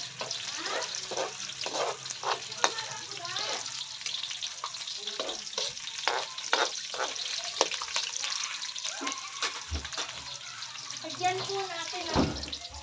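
Chicken adobo sizzles and crackles steadily in a hot pan while being stirred, with scraping clinks of the spatula recurring throughout and brief bursts of talking now and then.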